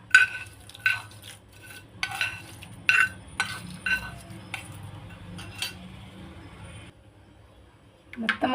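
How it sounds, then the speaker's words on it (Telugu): Cooled tempering being stirred into yogurt for curd vadas produces a run of spoon clinks and scraping against the bowl, a few sharp taps then softer mixing, with faint background sound. "తాలింపు దీనిలో యాడ్ చేసుకుందాం"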